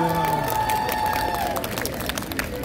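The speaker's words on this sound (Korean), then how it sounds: "박수!" Audience at a Hongdae street busking show claps and cheers after a song, a dense burst of applause that starts loud and gradually thins and fades, with crowd murmur underneath.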